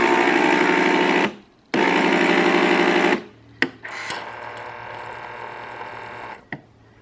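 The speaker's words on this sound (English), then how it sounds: "it will just rinse by itself, which is really nice because every time you use it, it just cleans out the milk jug by itself" A Nespresso Creatista Plus rinses its milk jug and steam wand in loud buzzing, hissing bursts that start and stop abruptly, followed by a quieter steady hum with a few clicks.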